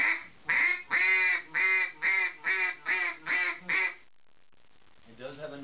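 A commercial duck call is blown in eight evenly spaced, high-pitched quacks, each bright and close, followed by a pause and then the start of a lower, raspier quack.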